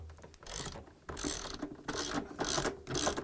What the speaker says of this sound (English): now I'm going to use this 13 millimeter socket wrench